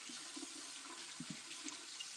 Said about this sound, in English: I'm running water and stuff.